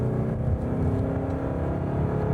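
A Mazda CX-5 engine drones at high revs, a steady loud roar with a whirring hum that holds throughout.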